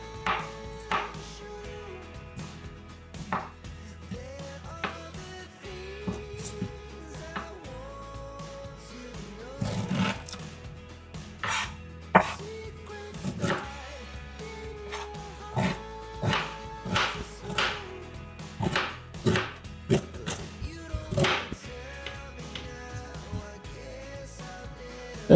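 Knife chopping and cutting through beetroot on a board, with repeated sharp cuts and scraping strokes at an irregular rhythm, close and moderately loud, with no talking.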